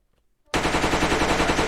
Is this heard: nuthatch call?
no